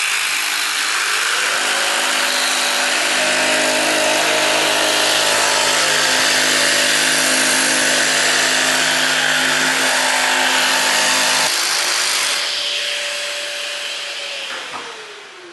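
A jigsaw set to pendulum stroke 2 and speed 4 cuts wood with a loud, steady buzzing whine, then changes pitch near the end and winds down as the motor slows.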